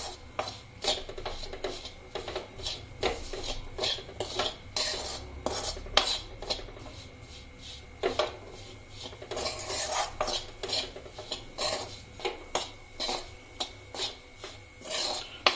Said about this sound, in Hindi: इन सब मसालों को हमें चलाते हुए मिक्स करना है, और इन्हें मसालों को हमें बेसन के साथ भूनना है